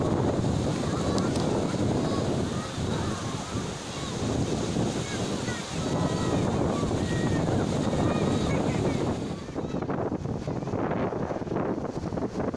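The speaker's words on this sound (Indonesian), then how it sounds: "ombaknya tambah gede, anginnya juga semakin kencang juga" Strong wind buffets the microphone as waves roll in at Tlangoh beach, Tanjung Bumi on Madura, a loud continuous roar of surf and gusts that swells and eases; a faint voice is buried in it.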